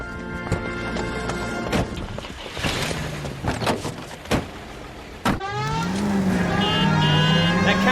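A car drives through city streets in the LA Noire video game, its engine droning steadily while sharp knocks and thumps break in, and a rising tonal whine takes over near the end.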